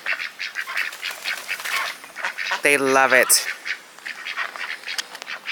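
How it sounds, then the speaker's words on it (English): Ducks let out into a snowstorm on a farm give a short burst of loud, close quacking calls, set against steady background noise, with a person talking briefly nearby. "The ducks want to get out so bad,"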